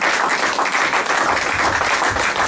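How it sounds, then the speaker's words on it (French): A congregation applauding and cheering for God at a church service, a dense, continuous wash of clapping and voices filling the whole stretch at steady loudness. "Acclamons très fort pour Jésus"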